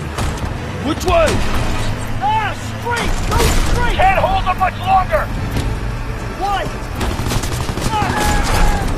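Rapid bursts of gunfire crackle in a Call of Duty WWII battle, with repeated shots and ricochets over a rumbling vehicle engine while soldiers shout urgently.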